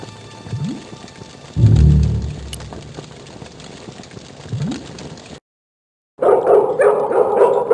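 A dog barks in the 1997 video game Broken Sword: The Smoking Mirror, with a couple of short yelps and a louder gruff burst over a quiet game background before a brief silence and then other game sounds.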